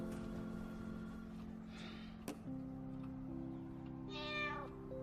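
A cat meows once, a short rising call heard close in a quiet indoor room over a low steady background hum.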